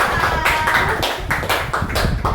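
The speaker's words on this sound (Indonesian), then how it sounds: "Yuk, tepuk tangan ke kita semua yang luar biasa." A small group claps in a brief, uneven patter of hands, close and moderately loud, with a few distinct separate claps standing out rather than a full roar of applause.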